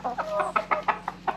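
Chickens cluck close by on a farm, a quick series of short rhythmic clucks over a soft background.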